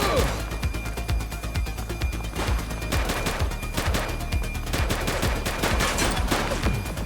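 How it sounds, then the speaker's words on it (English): Rapid gunfire crackles in a police shootout in the video game The Precinct, with dense bursts of close, loud shots, sharp cracks and impacts, and voices calling out underneath. "Shots fired!"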